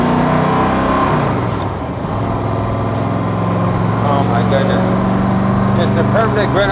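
1963 Chevrolet Corvette Stingray split-window drag car with a 540 big block and five-speed Tremec accelerating hard, its loud rumbling engine rising steadily in pitch through the gears, close and continuous.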